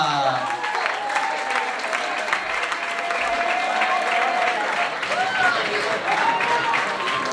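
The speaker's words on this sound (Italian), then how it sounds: "Facciamo un applauso per Miss Minkatia." Sustained audience applause and clapping for a drag queen performer at a drag show in Bologna, steady and dense throughout, with a voice talking over it.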